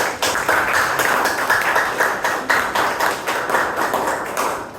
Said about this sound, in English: Let's give a round of applause for the speech of the